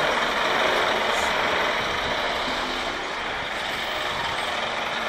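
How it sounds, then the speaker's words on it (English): A semi-trailer truck engine idling in a narrow residential street, a steady low rumble with a constant hum, fairly close and unbroken, with no talk over it. "Nobody told me it was a semi-trailer."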